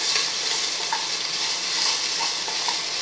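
Grated ginger and cut green chili frying lightly in ghee for ven pongal, a steady close sizzle with faint crackles and small stirring ticks throughout, no voices.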